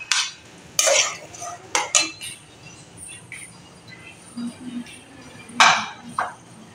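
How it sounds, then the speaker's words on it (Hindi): Onion and green chilies tipped into a pan for gravy, with sharp metallic clinks of a utensil against the pan and bursts of scraping and clatter between quieter stretches, with a faint sizzle underneath. "यहाँ मैं डालती हूँ इसमें ये थोड़ी सी प्याज, हरी मिर्ची"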